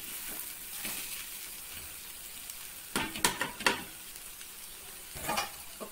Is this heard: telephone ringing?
no